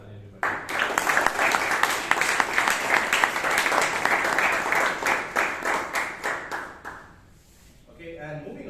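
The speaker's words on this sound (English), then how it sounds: "So big round of applause for Toastmaster Vijayanand and for Abhay Kothari, everybody." Audience applause at a Toastmasters meeting in Bangalore: a steady burst of many hands clapping for several seconds, fading out near the end before a brief murmur of voices.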